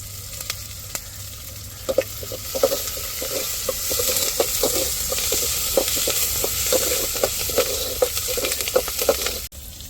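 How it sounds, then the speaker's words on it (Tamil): Curry leaves sizzle in hot oil for a chicken curry, a loud continuous fry with sharp crackles and pops scattered throughout, close and without any talk. "இப்போ கருவேப்பிலை சேர்த்துக்கிறோம்"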